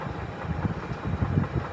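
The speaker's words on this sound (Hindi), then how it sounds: "फिर आई फाइनली मेट्रो हमारी।" Metro train pulling into a crowded station platform, a steady low rumble and rolling clatter of wagons with a rising and falling engine drone, fairly close and continuous with no talk.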